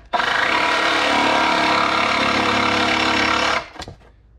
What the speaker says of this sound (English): I have a jigsaw that I'm going to be using to cut these out.